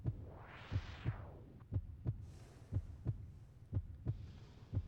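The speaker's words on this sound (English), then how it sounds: "I like how it was very clear when the heartbeat recording video sound looped." A looped heartbeat recording in the PS1 mech shooter Kileak: The DNA Imperative pulses in steady double thumps, roughly every half second, low and throbbing over a faint hum, with no talk.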